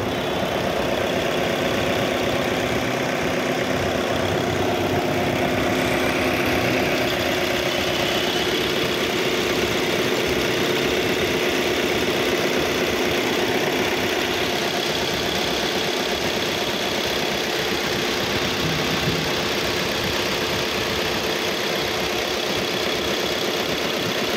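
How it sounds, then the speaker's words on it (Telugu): A 2015 Volkswagen Vento diesel engine idles steadily with a low, even rumble and faint knocking texture, continuous and close, with no talking. "వెహికల్ ఇంజన్ కూడా చాలా సైలెన్స్ ఉందన్న."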